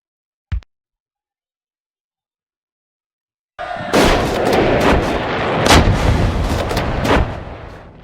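Six-pounder cannons of a Confederate Lynchburg battery fire on Union infantry in a Civil War battle video game. A lone sharp report comes first, then after a pause a loud, sustained barrage of booming shots and crackling gunfire.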